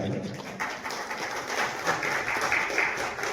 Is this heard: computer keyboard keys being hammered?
no